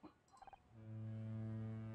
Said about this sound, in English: Foghorn